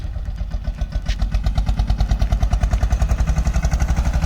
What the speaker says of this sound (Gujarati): વાડીએ ટ્રેક્ટર આવી ગયું છે